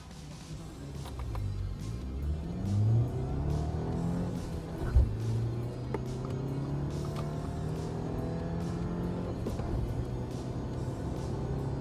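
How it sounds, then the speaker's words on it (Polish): An Audi A4 1.8 TFSI accelerates from 0 to 100 km/h with its engine note rising in pitch through several gear changes, each shift dropping the tone before it climbs again, heard steadily from inside the car. "Sprawdzimy jakie jest przyspieszenie fabrycznego tego samochodu od 0 do 100 km na godzinę"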